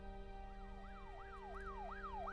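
A police car siren wails in quick repeated rising and falling sweeps, fairly faint and distant, over a steady low engine hum.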